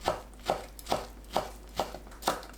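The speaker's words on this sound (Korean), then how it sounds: "찐 호박잎을 잘게 썰어줍니다" Steady rhythmic knife chops on a cutting board, about six evenly spaced thuds, quiet and close with no talking, finely chopping steamed pumpkin leaves.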